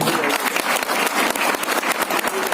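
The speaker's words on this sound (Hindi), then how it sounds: "जबरदस्त तालियां दी" Loud, dense applause from a seminar audience in Jamui, many hands clapping in a continuous roar that holds steady throughout.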